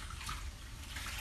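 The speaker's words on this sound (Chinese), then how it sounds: "得把这茼蒿多清洗几遍，太脏了，都是老大泥巴。" Crown daisy greens being rinsed in a basin of water indoors, a soft continuous splashing and sloshing, faint and close with no talk.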